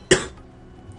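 A man under the weather gives a single sharp cough close to the microphone, then quiet.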